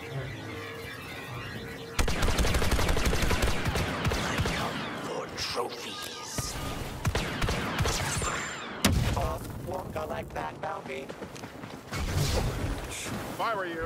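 Blaster fire crackles in Star Wars Battlefront, with bursts of shots, mechanical clatter and booms coming in loud waves. Voices speak intermittently over the battle.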